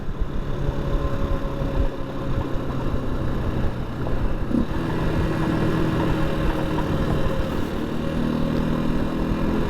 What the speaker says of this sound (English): Here I am zooming along on a gravel road on a hardtail motorcycle